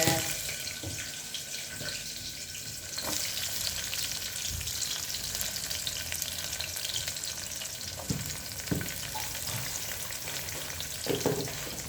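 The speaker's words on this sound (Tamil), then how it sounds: "சேர்த்ததுக்கு பிறகு வெங்காயத்தை போட்டுக்கோங்க." Sliced onions fry in hot oil with cloves, cardamom and fennel seeds for Tamil tomato rice, giving a steady close sizzle with a few scraping stirs and light clinks throughout.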